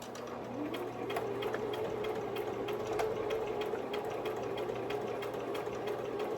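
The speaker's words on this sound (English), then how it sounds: "I got gold thread in my sewing machine" A sewing machine stitching with gold thread runs steadily with a fast, continuous mechanical whir and rapid stitching clatter, close by and unbroken for several seconds.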